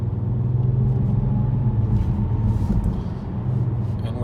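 A 2018 Kia Stinger GT2 cruises onto a highway on-ramp, its engine a steady, loud low rumble heard from inside the cabin, with sustained road and motor drone and no speech.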